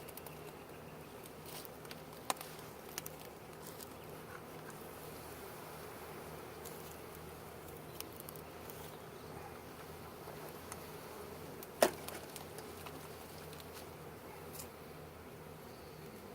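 Honeybees drone softly around opened old beehives at a Vermont beekeepers' workshop, a faint, steady low hum with a few brief knocks and ticks, quiet overall and with no voices.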